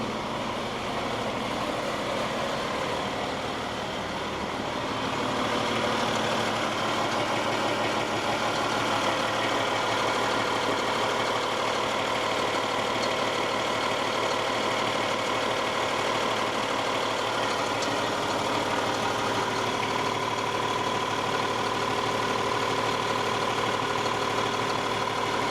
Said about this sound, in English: I want to go out and do one more inspection at the engine compartment while it's running.